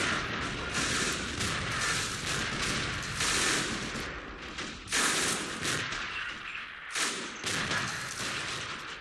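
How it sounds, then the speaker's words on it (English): A tripod-mounted MG42 machine gun fires in the war game Men of War: Assault Squad 2, with dense bursts of rapid gunfire and booming explosions forming a loud, continuous battle din with no speech. "This is an MG42 on the tripod."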